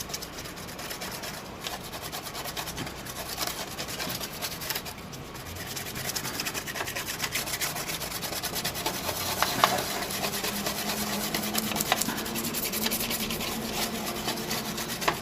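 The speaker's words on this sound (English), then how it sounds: "I'm just spreading it out so it'll evaporate quicker here." Alcohol cleaner is spread by brush or swab across a beer-spilled laptop motherboard, giving a continuous close, dry scrubbing and rasping sound with steady rhythmic strokes and no talk.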